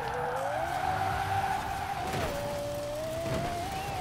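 A 2015 Lexus RC F drifts in the racing game Forza Horizon 4, its tires squealing in one long, steady screech over a constant engine drone, close and loud with no talk.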